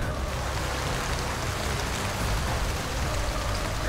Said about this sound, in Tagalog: At dito ay bumuhos na rin ang napakalakas na ulan.